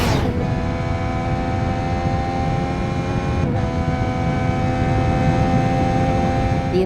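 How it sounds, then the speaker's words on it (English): A 2025 Triumph Speed Triple 1200 RS triple-cylinder engine running loud and close, a steady dense roar with a humming tonal drone that holds evenly throughout. "this thing makes one of the best standard, you know, Euro 5+ compliant engine noises of any bike on the market"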